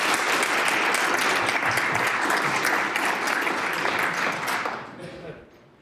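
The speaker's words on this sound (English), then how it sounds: "a round of applause, please." A round of applause in a provincial House of Assembly chamber, dense, sustained clapping from many people at full strength that tapers off and fades out over the last second.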